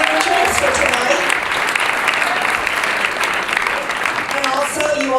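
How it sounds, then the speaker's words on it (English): Full, loud round of applause from the crowd at a Tech Valley startup meetup in March 2015, sustained throughout with a few voices faintly under it. "Let's give him a round of applause for providing a meeting entrance for tonight."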